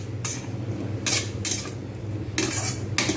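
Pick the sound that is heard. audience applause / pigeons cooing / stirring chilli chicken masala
stirring chilli chicken masala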